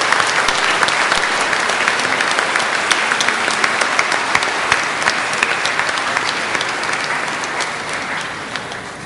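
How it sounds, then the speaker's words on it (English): Sustained applause from a congregation at a Mother's Day Sunday healing Mass, dense and steady clapping throughout that tapers slightly toward the end. "let us give a round of applause to all our mothers."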